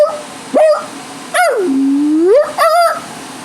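A dog yelps, then lets out a long whining, howl-like cry that bends down and back up, followed by a shorter whine, all loud and close with no talking.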